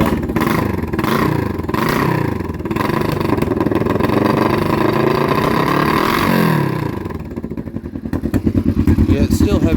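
A Kawasaki Vulcan EN500 motorcycle with a rough-running engine, seemingly firing on one cylinder and blowing white smoke, idles unevenly and loudly up close, ending in a choppy, pulsing beat.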